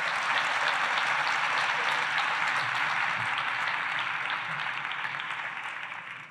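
Audience applauding at an mSchools education event in 2024, dense steady clapping from a large crowd, sustained throughout and fading slightly at the end.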